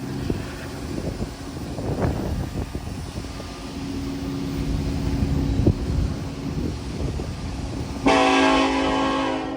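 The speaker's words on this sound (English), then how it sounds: "two SD-40s led this train." Norfolk Southern NS-337 manifest train led by two SD-40 locomotives rumbles past steadily outdoors, with a horn blast sounding loud and near toward the end.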